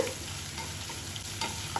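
Close sizzling of ginger and garlic frying in hot oil, with the scrape and clink of a spoon stirring the pan.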